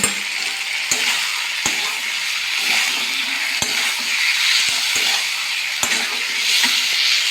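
Soybean and potato curry sizzles in a wok while a spatula scrapes and knocks against the metal, sharp clicks breaking a steady loud hiss of frying, with no voices.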